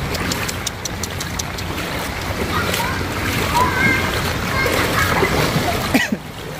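Someone wades through flood water, splashing steadily in a continuous churning wash, close and fairly loud, with a voice talking over it.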